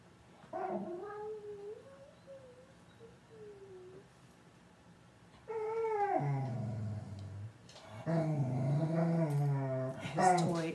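A dog named Ditto lets out high, wavering whines and whimpers that bend up and down, close by, followed by louder strained growly whining in later bursts.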